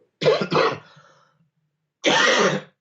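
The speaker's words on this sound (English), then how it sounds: "let's hope that the adrenaline stops the coughing" Two quick coughs in a row, then a short pause and another harsh cough, close and loud with no talking.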